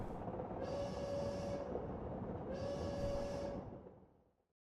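A video-game train's mechanical rumble hums continuously with a steady tone, broken by two long hissing swells of air, then fades out at the end.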